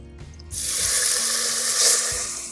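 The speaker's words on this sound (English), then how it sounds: "add water." Water poured into a pan holding fried bay leaves and a little salt while cooking chicken biryani; it starts abruptly with a loud, steady gushing splash and hiss that continues to the end, with no talking.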